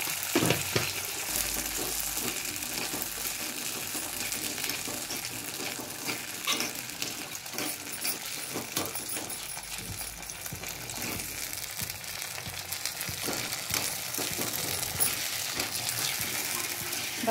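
Green peas fry in hot oil with salt, giving a steady, dense sizzle with stirring clinks and scrapes against the pan throughout, loud and close, with no talking.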